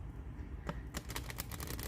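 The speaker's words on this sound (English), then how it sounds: "So here's one way to shuffle." Tarot cards shuffled by hand, a short riffle at first and then a rapid run of crisp, close papery flutters and snaps that continue to the end, with no talking.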